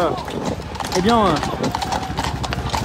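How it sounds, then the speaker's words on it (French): Police horses advance behind police vehicles at a street protest in Belgium, their hooves clip-clopping in a steady rhythm under continuous talk, with a brief whinny-like call partway through. "des policiers sur des chevaux qui sont en train d'avancer à l'arrière des véhicules de police ici même."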